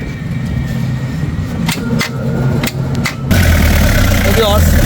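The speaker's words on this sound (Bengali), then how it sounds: "গাড়িটা স্টার্ট করেন, একটু সাউন্ডটা দর্শক যদি দেখাই।" A Toyota Hiace Super GL van with a 3L diesel engine cranks with a few sharp bursts, then catches and settles into a loud, steady rumbling idle up close. Voices talk over the engine.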